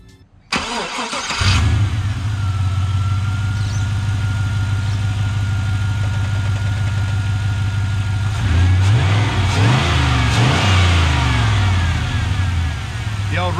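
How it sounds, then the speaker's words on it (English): The V8 of a 2002 Holden Statesman with a multi-speed automatic cranks and catches, settles into a loud, steady idle, then revs up sharply in several bursts near the end. "So the engine sounds good and it looks good."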